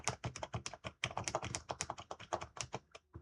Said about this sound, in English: can you hear my keyboard when I press the buttons?